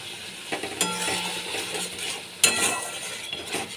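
A spoon stirs and scrapes spice paste with turmeric and salt in a pan over a low, steady sizzle, with occasional sharp clinks against the metal, close and without talk.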